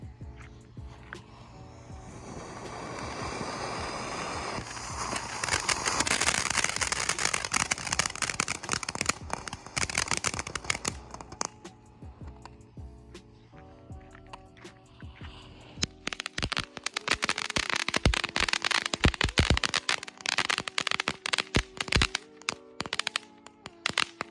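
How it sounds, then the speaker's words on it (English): A Phantom Fireworks Beaming Lights fountain, a small intergalactic California Safe and Sane fountain, sprays a loud continuous crackling hiss that swells and sputters, then shifts into dense rapid popping crackles toward the end. "Now for the 3 small intergalactic fountains, starting off first with Beaming Lights"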